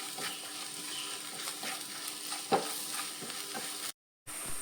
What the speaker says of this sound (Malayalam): നല്ലോണം നമുക്കൊന്ന് ഇതിൻ്റെ പൊടിയുടെയൊക്കെ പച്ചമണം മാറുന്ന വരെ ഒന്ന് ഇളക്കിയെടുക്കാം.